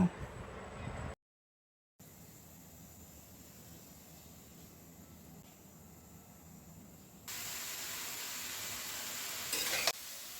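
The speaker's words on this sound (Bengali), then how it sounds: "মাছটার বলক এসে গিয়েছে" Fish cooking in a covered pan as it comes to a boil, a soft, steady hiss and sizzle that cuts out briefly, then rises louder toward the end.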